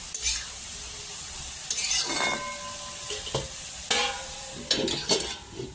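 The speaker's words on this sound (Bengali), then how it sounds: "নুন দিয়ে দিচ্ছি, নুন দিয়ে ভালো করে চাপা দিয়ে নেড়ে দিচ্ছি ভালো করে।" Vegetables fry in a pan with salt for veg momo filling while a utensil stirs them, giving a steady sizzle broken by several scraping, clinking strokes against the metal, with no one talking.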